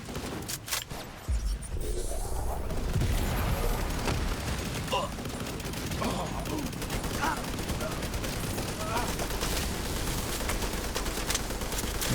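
Light machine gun fire in a video game rattles in long, dense, continuous bursts. Voices talk over the shooting at times.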